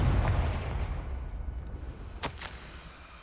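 A Confringo blasting curse explodes in Hogwarts Legacy, opening with a heavy low boom that rumbles and slowly fades over several seconds, with a sharper crack near the end.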